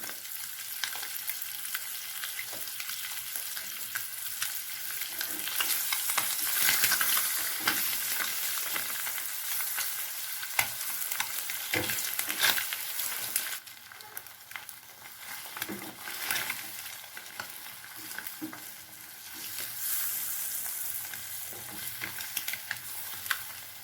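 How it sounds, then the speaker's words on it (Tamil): Masala egg fry hisses in a pan while a spatula turns and stirs it, scraping and tapping at irregular intervals over a steady close sizzle, no voices. "நல்லா இதை திருப்பி விடணுங்க. அந்த மசாலால முட்டையில் நல்லா இறங்குற மாதிரி."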